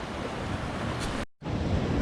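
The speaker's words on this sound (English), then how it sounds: "waves really splashing up" Choppy sea waves wash and splash steadily onto a sandy beach at Paguera in Mallorca, a continuous broadband rush with a brief dropout of silence midway.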